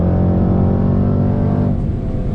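A 2020 Jaguar F-Pace SVR's engine roars loud and close in a steady, deep drone while the throttle blips on paddle shifts, easing off slightly near the end, with no voices.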